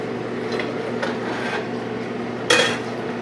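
Pans and utensils handled in a kitchen while broth is strained into a clean skillet, soft scraping and light knocks over a low hum, ending in one sharper metallic clank.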